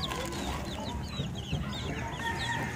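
A flock of backyard chickens being fed mutters and clucks nearby, with overlapping short calls and squawks over a steady rustle and no one talking.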